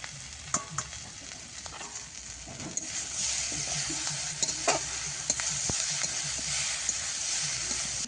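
Prawns and potatoes fry in a pan in a home kitchen, a continuous close sizzle with repeated scraping stir strokes and small clicks of the utensil, steady throughout without speech.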